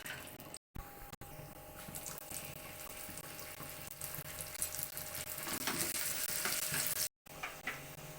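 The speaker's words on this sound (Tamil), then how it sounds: "நெய் ஊற்றி முந்திரி வறுத்துக்கலாம்" Cashews fry in ghee, giving a steady crackling sizzle that grows louder toward the end, broken by two brief gaps of silence.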